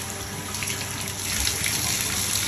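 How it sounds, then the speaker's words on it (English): Water runs steadily into a tub as a dog shampoo bag is rinsed out during a French Bulldog's bath, a close, continuous splashing stream that grows slightly stronger toward the end. "just rinse the bag out."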